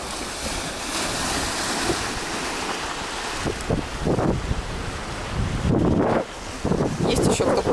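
Autumn sea waves roll and break on the shore at Anapa, with heavy wind buffeting the microphone and rising, surging crashes that come close several times.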